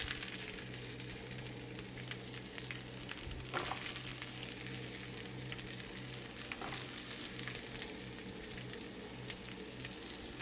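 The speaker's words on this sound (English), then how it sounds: "I'm going to cook them for a little bit, just enough so they get softer." Vegetables softening in a frying pan while cooking a Puerto Rican dish, giving a steady, quiet sizzle that runs evenly throughout with faint stirring clicks and no talk.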